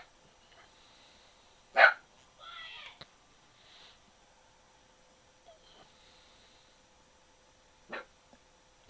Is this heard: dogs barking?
yes